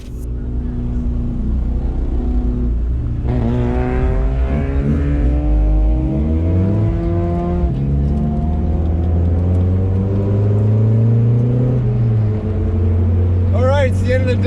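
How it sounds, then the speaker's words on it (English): A Turbo Miata racing on the Lime Rock circuit, heard from inside a following car as a loud continuous engine drone rising and falling in pitch through shifts, with wind and road roar throughout. "I have Mxrti in front of me in his Turbo Miata"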